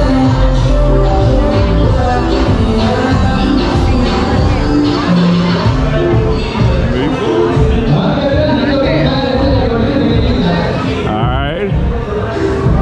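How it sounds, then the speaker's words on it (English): Dense crowd babble fills a packed nightclub in Montanita, Ecuador, with loud continuous voices and chatter layered over music, steady throughout with no break. "Now we're going into the more of a crowd right here."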